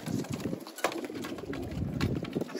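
Pigeons coo softly near a training box in Malta, repeating low throaty calls over faint background noise and light rustling.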